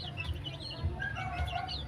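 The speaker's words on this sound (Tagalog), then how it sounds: "Native na manok." Native chickens cluck softly in short repeated bursts, a few quiet calls spread across a moment at low, steady volume with faint background around them.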